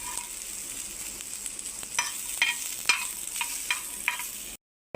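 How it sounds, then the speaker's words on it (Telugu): Onion pieces frying in a little oil make a soft, steady sizzle, broken by several spatula scrapes and taps in the middle. Near and unvoiced, it cuts to silence just before the end. "ఉల్లిపాయ ముక్కలు వేయించేసుకుందామండి"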